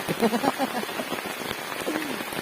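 Heavy rain pours steadily on a forest campsite in the Khok forest, a dense, continuous patter on tarp and ground close around, with brief voices heard under it.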